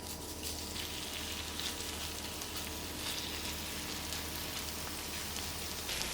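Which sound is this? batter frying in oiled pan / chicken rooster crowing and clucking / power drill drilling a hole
batter frying in oiled pan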